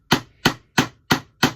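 A hammer drives a nail into scrap wood for a DIY Christmas decoration, five sharp, evenly spaced strikes ringing out close by with no talk.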